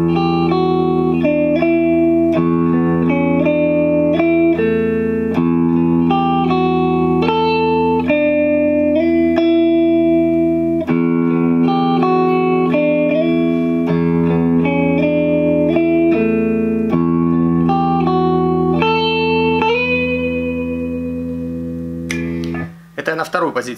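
An Aristides electric guitar on its second pickup position plays a sustained melodic passage with clear harmonic notes, loud and close, ending in a brief noisy scrape.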